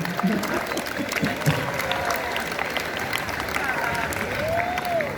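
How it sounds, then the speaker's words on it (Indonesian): A crowd claps together in sustained, even applause, with a few voices mixed in. "kita beri tepuk tangan dulu buat bola sengaja."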